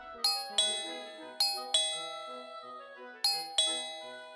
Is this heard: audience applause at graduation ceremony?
no